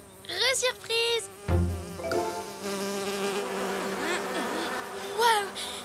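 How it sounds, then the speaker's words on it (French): Cartoon flies buzz steadily around a drink of marula juice, their whining drone running loud and continuous through the scene, with brief character exclamations and background music over it. "Je déteste les choses qui bourdonnent!"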